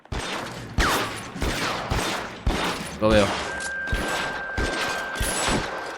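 Rifle gunfire in the video game L.A. Noire: repeated sharp shots in a steady rhythm over a busy game soundscape, with a voice briefly speaking under the shooting.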